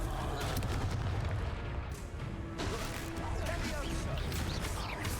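Fiery blast spell detonating in the Hogwarts Legacy video game, a few loud crashing bursts amid battle noise, with a voice shouting over the mix.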